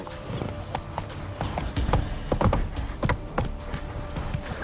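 Geralt's horse Roach trotting in The Witcher 3, hooves clip-clopping in a steady, fairly close rhythm, with creaking tack and outdoor ambience underneath.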